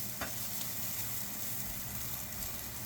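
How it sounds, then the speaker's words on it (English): Asparagus sizzles as it sears in a pan, a steady soft crackle and hiss with occasional pops, no voices. "We're just letting the asparagus sizzle a little bit."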